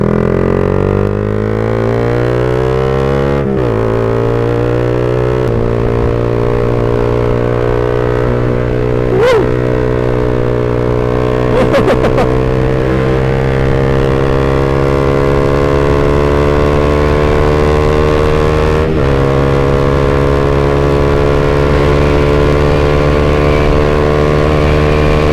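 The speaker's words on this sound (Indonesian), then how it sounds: "mari kita tes motornya" A Suzuki GSX-R 150 motorcycle engine drones loudly and close up on a test ride, revs climbing and shifting through gears with brief dips between pulls, no talking over it.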